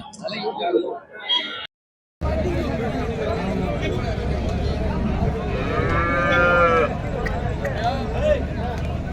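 Cattle moo repeatedly at a busy cow market in Erode, Tamil Nadu, over steady crowd noise and nearby talking.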